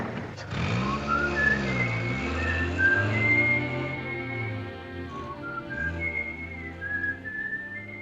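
A person whistles a gentle tune in a 1944 romantic war drama, clear melodic phrases carried over a soft orchestral music background, close and steady.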